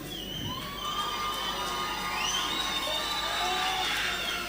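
A crowd cheers and shouts at a KINGS K1 kickboxing event, loud and sustained throughout, with high whoops and whistles rising over a dense roar of voices.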